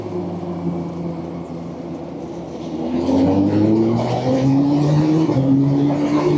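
An S1000RR superbike riding on a highway, its engine droning and climbing in pitch as it accelerates through the gears over constant wind roar, growing louder halfway through.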